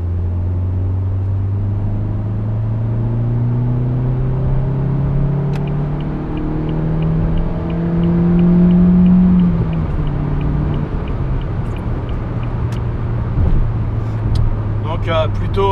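A car engine accelerates from low speed up to about 3000 rpm, its rising hum swelling steadily in pitch and loudness, easing back as someone talks over it throughout.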